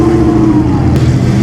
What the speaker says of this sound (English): Another 8-cylinder Alfa Romeo